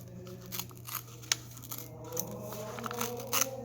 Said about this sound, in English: we just tear this little bit off right there